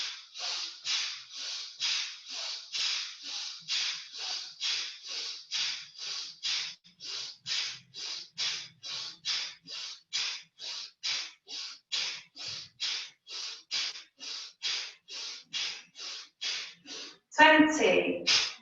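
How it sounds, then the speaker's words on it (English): Rapid forceful breaths through the nose during a fast-paced yoga breathing exercise, about forty sharp, evenly spaced exhales in a steady rhythm, close and loud, ending in a brief noisy burst. "Exhale, squeeze the thumbs. Strong exhale into the ribs. We're going to do this 50 times"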